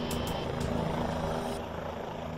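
A Fairfax County Police helicopter flies close by, its rotor producing a loud, continuous chopping drone that stays steady throughout.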